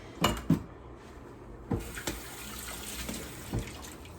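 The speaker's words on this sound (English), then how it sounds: "I wash my hands so much when I'm in the kitchen" Running water from a kitchen tap splashes over hands being washed, a steady close rush broken by a few sharp knocks and clunks around the sink, with no talking.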